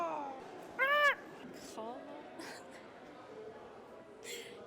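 A person imitates a raptor's call with a short, loud, pitched screech voiced alone, followed by a few softer vocal squawks and breaths against a quiet room.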